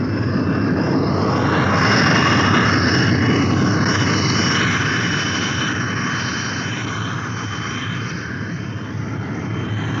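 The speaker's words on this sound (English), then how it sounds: "Take over visually and land your airplane." An airplane makes a ground-controlled approach and touches down on a runway, its steady engine roar loud and broadband throughout with a slowly wavering whine, no voices.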